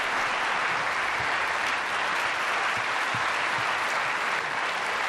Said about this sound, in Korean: 여러분 함성의 박수로 환영해 주시면 고맙겠습니다